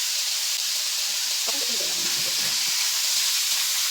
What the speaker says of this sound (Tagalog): Igisa po muna natin yung chicken.